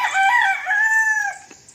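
A rooster crows once in a long, drawn-out call, close and loud, with a faint cluck or bird note near the end.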